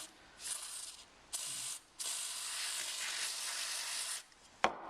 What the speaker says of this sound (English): we've got some WD-40 Specialist Fast Drying Contact Cleaner